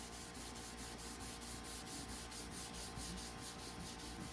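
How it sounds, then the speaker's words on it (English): Fine 4/0 steel wool rubs lacquer off the wood of a Grunow Teledial radio cabinet in steady, rhythmic back-and-forth strokes, a close and continuous scratchy swish with no talking. "So with the 4/0 steel wool, I should probably put this radio on the floor directly. So this is definitely taking off the lacquer."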